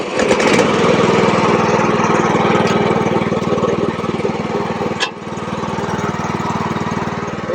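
A mini crawler dumper's small engine runs steadily and loudly up close, a constant mower-like drone with a brief dip in pitch and level near the end, no talk over it.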